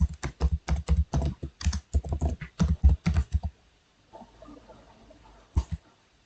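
Someone types a command on a computer keyboard, a quick, close run of crisp, evenly spaced key clicks, then a soft rustle and one final keystroke.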